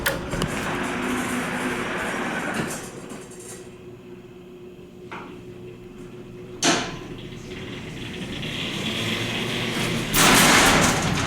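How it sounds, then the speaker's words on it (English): Elevator door in a university building basement sliding open, a clunk and rumbling mechanical slide over humming machinery, with a sharp thud partway through and a louder rush of noise toward the end. "It's hard to hear, so we're going to open the door."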